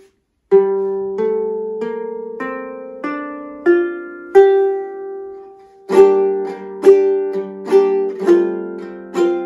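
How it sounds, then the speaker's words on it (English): A viking-style lyre with nylon strings and wooden tuners, tuned in G, plays a close, clear run of plucked notes, then ringing strummed chords that decay between strokes, with no voices. "And nylon strings sounds like this."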